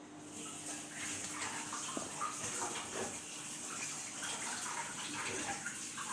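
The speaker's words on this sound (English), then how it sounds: "you just wash it off so that it doesn't merge in the other food containers" Running tap water streams steadily while a tablespoon is rinsed off under it, a continuous close splashing wash with no talk.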